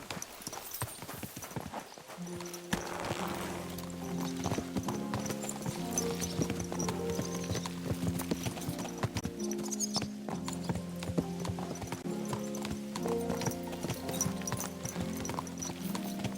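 Horse hooves clip-clop at a steady riding gait in Kingdom Come: Deliverance II, a continuous rhythmic clatter over a bed of medieval game music, with no talking.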